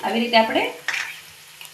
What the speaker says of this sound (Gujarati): તેલ મેં પહેલાં જ ગરમ મૂકી દીધું છે. આપણે તેલ આવી ગયું છે. હવે એક કરીને આપણે તળી લેશું.